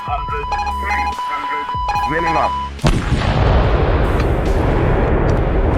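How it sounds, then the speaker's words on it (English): After a stretch of tonal, music-like sounds, a sudden huge atomic bomb explosion erupts and becomes a loud, sustained roaring rumble that fills the rest of the clip. "The resulting explosion creates a 700-foot fireball"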